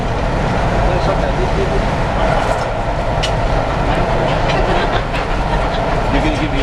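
A freight train rolls past close by, a steady loud rumble of wagons with faint clicks from the rails, while a voice talks over it.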